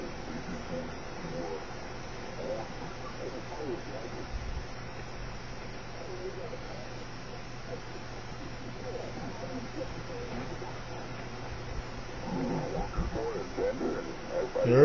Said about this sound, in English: as I turn the BFO from right to left, that the sound of the audio will change